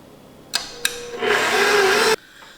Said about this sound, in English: I'm going to let it knead on number 2 setting on the KitchenAid for about 5 to 8 minutes